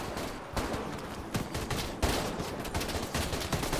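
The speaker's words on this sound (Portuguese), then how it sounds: "que atiroteio pra tudo quanto é canto" Gunfire from many directions in the video game Call of Duty Mobile, with dense, continuous bursts of shots and sharp louder cracks recurring over a busy battle din.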